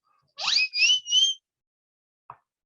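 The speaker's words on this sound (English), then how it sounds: "I love that whistle." A small whistle gives three quick, bright, rising-and-falling blasts close by, then a short faint click, against silence.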